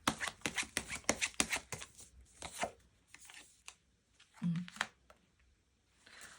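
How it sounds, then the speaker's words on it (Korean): Tarot cards being shuffled and drawn, giving a quick run of crisp papery riffles and slaps up close, then a few softer card taps and slides with short pauses between them. "카드를 뽑아보도록 하겠습니다."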